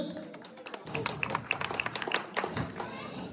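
Scattered hand claps from an audience at a workers' welfare council committee announcement for Padma Oil Company, greeting general secretary Faisal. The brief, uneven applause rises in the middle and then fades, with a voice over a microphone.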